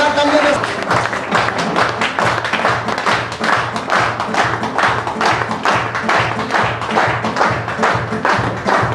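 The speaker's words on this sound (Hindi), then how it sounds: "जोरदार तालियां" Applause from a seminar audience, a dense run of many hands clapping at close range that keeps a steady, loud roar from start to finish with no voices breaking through.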